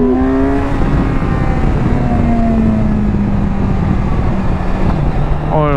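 A Kawasaki Versys 650 motorcycle engine revs up to its rev limiter, a loud, steady, close roar with a long rising and falling tone that holds near the top before easing off, with no voices over it.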